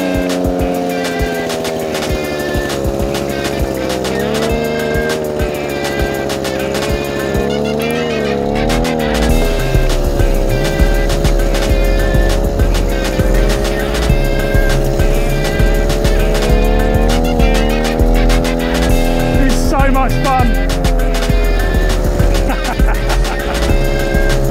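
A petrol generator mounted on an ebike runs throughout, a loud, close engine hum with shifting pitch as the bike rides along, joined partway through by a deeper low rumble and occasional rattles, with no clear talking.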